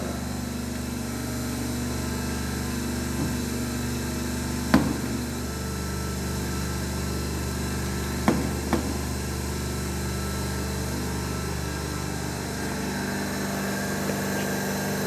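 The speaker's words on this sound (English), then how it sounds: "the speed of DC shunt motor to a rated one" A DC shunt motor drives a three-phase alternator on a test bench, giving a steady, even machine hum with a few sharp clicks or knocks.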